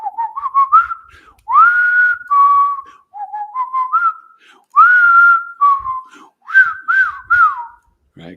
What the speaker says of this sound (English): did you guys know I can whistle any tune?